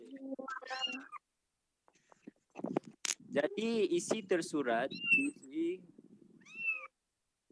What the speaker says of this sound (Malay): ada cikgu dengar suara kucing